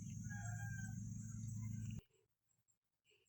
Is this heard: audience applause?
no